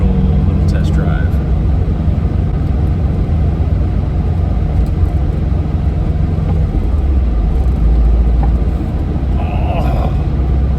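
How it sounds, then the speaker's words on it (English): Volkswagen Vanagon with a rebuilt transaxle driving through a residential neighborhood, giving a steady, loud low engine and road rumble that runs throughout without letup. "This is a very, very short initial little test drive."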